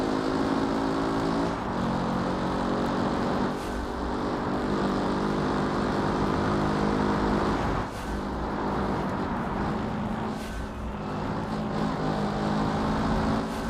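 A loud race car in a BeamMP multiplayer driving game roars through qualifying. A harmonic engine drone holds steady, with rises and dips as the throttle shifts and brief breaks near shifts. No voices are heard.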